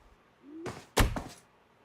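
A door in the detective game L.A. Noire slams shut: a short swishing swing, then one heavy, close thunk with a brief rattling tail, and quiet on either side.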